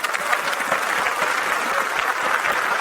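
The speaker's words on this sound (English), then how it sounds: "Give a round of applause for that." Steady, dense clapping from a crowd, continuous and fairly loud for the whole stretch with no break.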